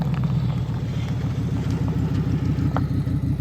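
A 1999 Ford F-250 XLT pickup with a 5.4 liter Triton V8 and automatic transmission runs steadily, a constant low engine rumble heard close by, with no talk over it.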